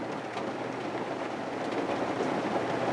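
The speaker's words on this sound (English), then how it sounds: "It's raining." Heavy rain falls outside a 1984 Airstream motorhome as a dense, unbroken hiss that stays even throughout, with no voices.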